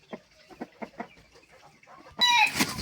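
A Leghorn chicken of the Dalmatian-spotted egg-laying type gives a steady series of soft, evenly spaced clucks, then a louder burst of squawking cackles near the end, with no speech.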